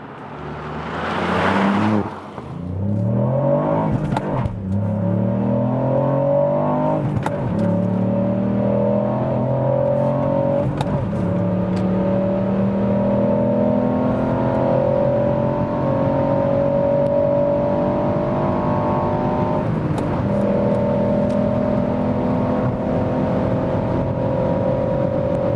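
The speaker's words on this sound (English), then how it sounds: "so impressive acceleration for such a small vehicle" A Ford Puma ST hot crossover hatch accelerating hard off a launch-control start, engine note rising steadily through the gears with brief dips at each upshift, loud and close, continuous for over twenty seconds with no talking.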